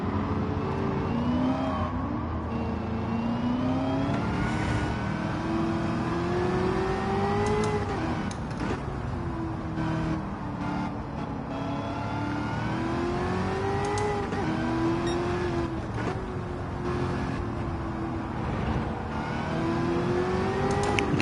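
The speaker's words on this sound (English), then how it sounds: "You can hear the whine of the supercharger." A high, rising and falling supercharger whine over a revving engine in Gran Turismo 7, climbing with speed and dropping at gear changes, continuous throughout.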